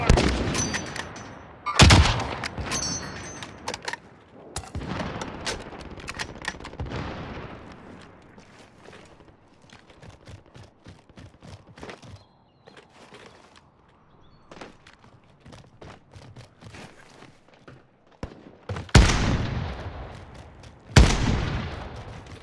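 Gunfire in Call of Duty: Modern Warfare, with loud sharp shots and bursts at the start and end and scattered softer distant shots and footsteps in between.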